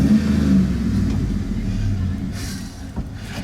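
Idling engine of a 1972 Le Mans car, a steady low rumble with a rough, uneven pulse close by, running alone throughout.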